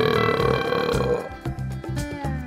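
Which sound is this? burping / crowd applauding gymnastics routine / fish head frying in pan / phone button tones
burping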